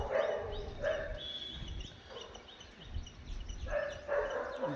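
Dog barking outdoors near a tree where a cobra has climbed, in a repeated pattern of short bark bursts at moderate distance with some background noise between them.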